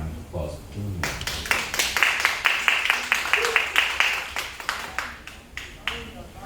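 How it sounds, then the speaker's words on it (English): Audience applause breaks out in a room, a dense run of clapping that swells and then thins, with a voice speaking briefly at the start. "I want to ask you to give him another round of applause"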